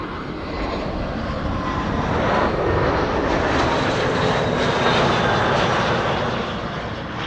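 A Martinair airliner arriving at Amsterdam Schiphol Airport, a sustained, loud roar of aircraft engines that swells gradually and holds steady before easing slightly, heard from nearby on the ground.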